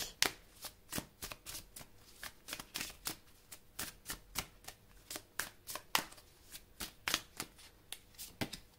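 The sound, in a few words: shuffling tarot cards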